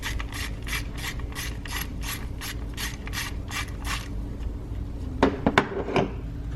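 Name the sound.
8 mm ratchet socket wrench turning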